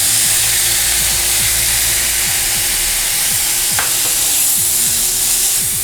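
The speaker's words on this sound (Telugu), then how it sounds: "మనం ఇందులో కాకరకాయ వేసేద్దాం." Bitter gourd tossed into a hot pan sizzles loudly and continuously, with a sharp stir or scrape midway and a low mechanical hum underneath.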